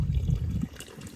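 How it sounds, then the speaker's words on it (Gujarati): A tap turned on gently lets water run into a container in a short, close trickle and splash that fades away after about half a second. "ધીમો ધીમો નળ ચાલુ કરી દીધું અને પાણી ભરાઈ ગયું"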